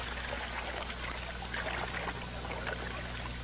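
Water poured over M16A1 rifle parts to wash them, a faint, continuous trickling splash under a steady low hum, with no talk.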